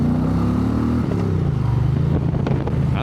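A street-glide-style Indian motorcycle rumbles steadily while being ridden, its low engine note close and loud, dipping in pitch as the rider shifts, with wind buffeting underneath.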